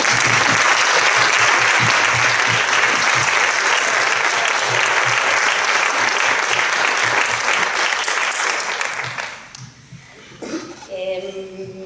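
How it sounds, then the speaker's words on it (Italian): Sustained audience applause fills a hall at a film screening and Q&A with director Stefano Savona, loud and dense for about nine seconds before thinning out and fading, with a few scattered claps and faint voices at the end. "vorrei ringraziarvi e farvi un applauso"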